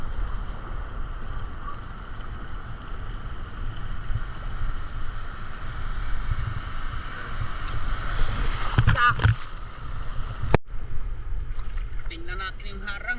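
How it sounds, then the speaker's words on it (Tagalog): Waves slap against a small fishing boat out on choppy, rough water, a steady broadband wash with wind over the microphone, while voices talk now and then over it. "Ay naku, ang alon parang galit."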